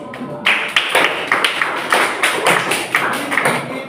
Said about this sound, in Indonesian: sama-sama kita beri aplaus untuk kawan-kawan kita yang sudah berjuang ini